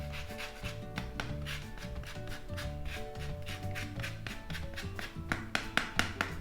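Shortcrust pastry dough with sugar, egg and lemon rind being mixed quickly by hand, a steady run of rubbing and tapping strokes with repeated soft thuds, close and fairly quiet, with music playing underneath.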